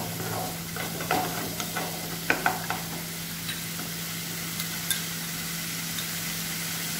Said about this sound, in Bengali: এবার আমি এটাকে ভাজব